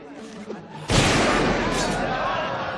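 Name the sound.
gunshot from Indiana Jones film scene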